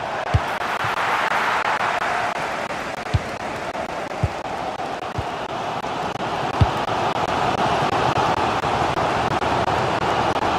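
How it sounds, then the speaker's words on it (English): A stadium crowd at a football match between Inter Miami and the NY Red Bulls roars continuously at a steady level, with a few sharp knocks or thuds popping out now and then. "The crowd certainly think so. Just listen to them."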